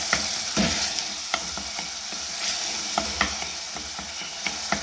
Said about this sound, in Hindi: और इसको मैं अच्छी तरह भून लूँगी।